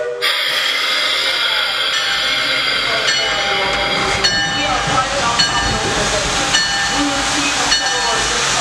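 Steam locomotive at a railroad museum, its hissing steam and whistle running loud and continuous with several sharp onsets, close by and filling the whole stretch.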